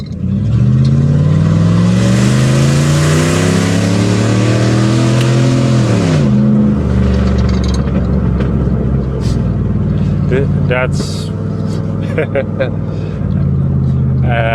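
A Jeep Grand Cherokee ZJ V8 engine revs up hard several times, its pitch climbing and dropping, then settles into a rumbling idle. The sound is loud and close.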